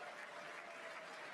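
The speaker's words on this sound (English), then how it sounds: "They still clapping." Sustained applause from a large audience during the 2026 State of the Union address, a dense, even wash of clapping that is faint and distant and carries on without a break.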